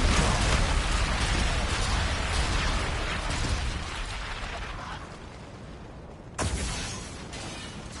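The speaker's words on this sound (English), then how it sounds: "Enemy bombardment incoming." Explosions from an enemy bombardment in an online shooter game form a dense, continuous rumble of blasts that fades over several seconds, then a sharp new boom erupts near the end.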